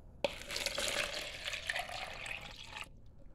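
Water from a fish tank water change poured and stirred into a container, a steady splashing stream that starts with a sharp onset, runs close and fairly loud for about two and a half seconds, then stops abruptly.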